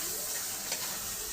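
Onion, ginger, garlic and spices frying in a pan with fish, giving a steady close broadband sizzle without pause.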